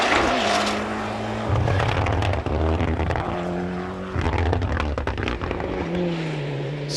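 A Mitsubishi Lancer rally car in the 1997 Kerridge Rally, engine revving hard and changing gear repeatedly, loud and close, its pitch climbing and dropping between shifts.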